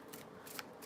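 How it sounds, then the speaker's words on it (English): Tarot cards are shuffled by hand in a few quick, soft riffling bursts, close and alone with no talk. "So as I'm shuffling"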